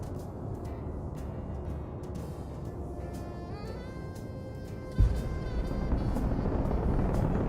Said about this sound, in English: Landing gear deployed.